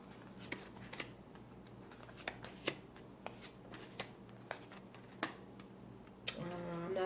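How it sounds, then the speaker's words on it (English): Tarot cards being shuffled in a quiet room, a string of crisp riffling snaps and soft flutters at irregular intervals, with a louder burst of riffling near the end. "I'm going to do another shuffle."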